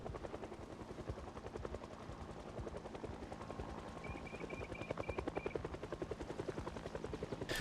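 Helicopter rotor thudding steadily in a zombie survival video game, loud and continuous with a rapid pulsing chop, mixed with game noise and a brief repeated electronic beep midway.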